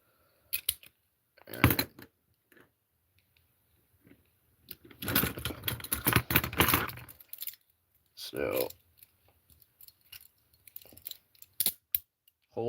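Handcuffs being clicked shut and double-locked give off quick bursts of metallic ratcheting clicks, a short one early and a longer run in the middle, with a brief spoken word nearby.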